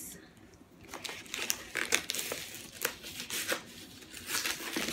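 Close crinkling and tearing of cardboard and packaging, with irregular rips and rustles as something is pulled open.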